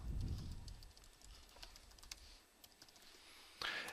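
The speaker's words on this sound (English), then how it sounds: "we'll type in Adam Storch and the email address" Rapid typing on a computer keyboard while entering a requester's name and email address into a form, with quick, irregular key clicks heard close and alone.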